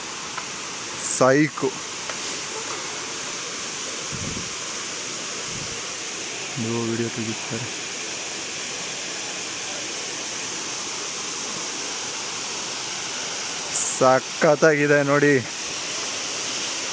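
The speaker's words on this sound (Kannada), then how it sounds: "ಒಳ್ಳೆ ಕ್ರೇಜಿ ನೀರು ಬೀಳ್ತಾ ಇದೆ" Soothanabbi waterfall roars with a constant, loud, broadband rush of falling water through the whole stretch, with a few short bursts of people talking over it.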